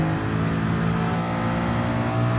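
A race car engine in Gran Turismo Sport, downshifted into third and revving hard in a steady, loud, continuous drone without talk.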